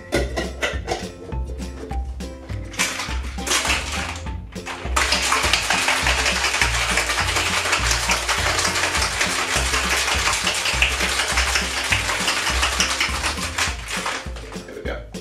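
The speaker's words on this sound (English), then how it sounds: "time to shake for 10 seconds, get nice and chilled." Cocktail shaker packed with ice being shaken for a Blue Hawaiian, a loud steady rattling wash of ice lasting about ten seconds after some brief handling sounds, with no talking over it.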